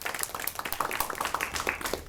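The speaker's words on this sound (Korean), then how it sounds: "뜨거운 손뼉으로 환영해 주십시오." An audience at a lecture gives warm applause to welcome a speaker, many hands clapping steadily and densely for the whole stretch.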